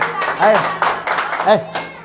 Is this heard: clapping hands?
yes